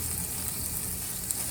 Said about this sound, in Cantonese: 一次煎3個啦。